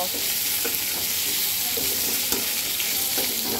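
Boiled potatoes fry in oil in a pan for a light Bengali shing fish curry, a loud, continuous close sizzle broken by repeated scraping stirs, with no talking.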